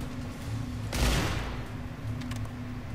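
A single loud gunshot blast in Escape from Butcher Bay rings out near the middle, followed by a decaying tail and faint distant clatter, with no talking.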